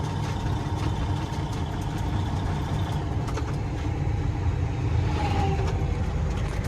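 Truck engine droning steadily while driving bobtail with no trailer hitched, a constant low rumble with road noise throughout and no change in pace.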